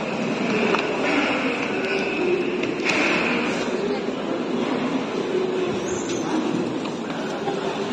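A Singapore MRT train rumbles and whines at steady volume, with people chatting nearby over the running noise.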